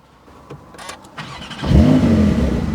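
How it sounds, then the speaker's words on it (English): A Porsche 911 Turbo S with sports exhaust cranks and fires up, settling into a loud, deep rumbling idle after a few quieter clicks. "Let's start the engine."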